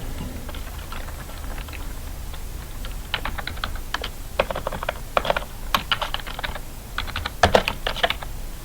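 Typing on a computer keyboard while writing in MS Word, heard as alone bursts of quick clicking keystrokes in uneven clusters, close and fairly loud.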